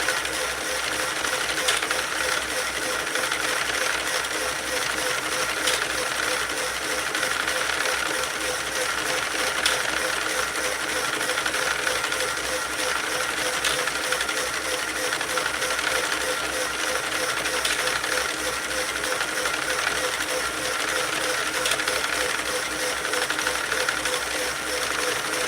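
A Sentro 48-pin circular knitting machine runs steadily on its motor adapter while knitting a slouch hat, giving a continuous close mechanical whir and hiss with faint repeating clicks throughout.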